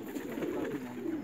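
Bahawalpur pigeons, red-tailed and feather-footed, give a soft low coo, a brief rolling murmur close by with faint background hiss.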